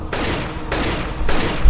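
Decoy grenade in Counter-Strike: Global Offensive imitating gunfire, giving three quick loud bursts of rattling shots close by in a short stretch, with no talking.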